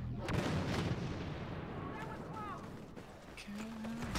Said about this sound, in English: I hear a proximity bomb.